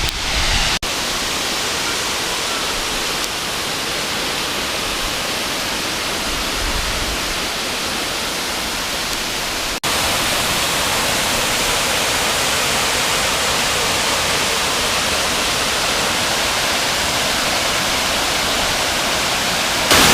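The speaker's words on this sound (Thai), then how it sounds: "เห็นน้ำตกนะฮะทุกคนนะเห็นไหมฮะ เห็นนะครับน้ำตกฮะ" Monthathan waterfall on the road up Doi Suthep near Chiang Mai roars as a loud, steady wash of rushing water heard up close, constant throughout without any voices.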